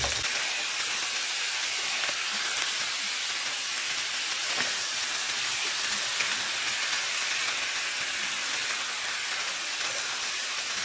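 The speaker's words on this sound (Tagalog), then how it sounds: "i-gigisa ko yung karne para mag-brown siya ng konti" Pork browning in a hot pan for a stew gives a steady, broad hiss and sizzle that runs evenly throughout, fairly close, with no talking.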